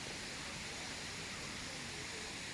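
Tier 4 of Huai Mae Khamin waterfall pours beside a tent campsite, giving a soft, steady rushing hiss that holds unchanged and fairly faint throughout.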